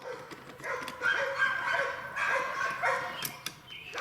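Several dogs bark and yip repeatedly at a moderate distance, overlapping in bursts that keep going without pause.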